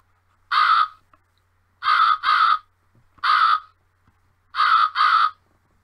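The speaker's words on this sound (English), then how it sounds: "And even birds want feeding." Crows cawing nearby, loud harsh calls in a pattern of one caw, then a quick pair, repeated twice, with quiet gaps between and no talking.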